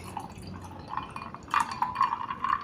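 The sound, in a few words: homemade apple and pineapple juice poured into a cup with ice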